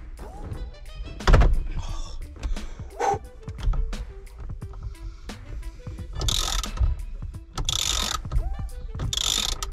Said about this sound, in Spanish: porque es que iba a partir la carraca